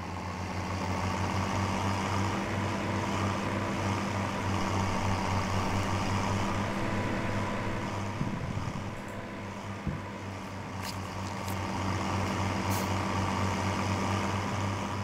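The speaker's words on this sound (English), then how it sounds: "So we'll take the baler and the tractor to our field." A tractor pulling a baler in Farming Simulator 17 drones as a steady, loud engine hum that keeps going without a break, with a few faint clicks and bumps over it.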